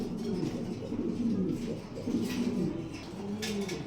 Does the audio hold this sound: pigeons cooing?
yes